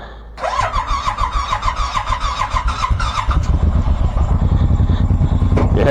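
A fuel-injected Suzuki Boulevard M90 motorcycle cranks with a rhythmic starter whir, catches, and settles into a loud, deep, lumpy idle with light revving close by.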